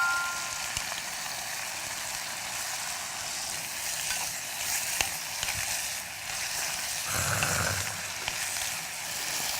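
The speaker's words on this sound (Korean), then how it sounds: "일단 다진 마늘 같이 넣고 볶을게요" Minced garlic stir-fries in a hot pan with a continuous bright sizzle and soft stirring scrapes, steady and close throughout, with a brief louder stir near the end and no talk.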